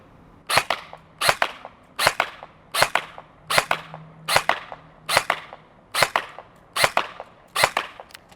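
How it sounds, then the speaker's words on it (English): A Helios Knight's Armament SR-16E Mod2 airsoft rifle fires ten sharp, evenly spaced shots, each a crisp snapping crack with a brief tail, close and loud with no talking. "we're going to fire 10 shots, see how tight that grouping is."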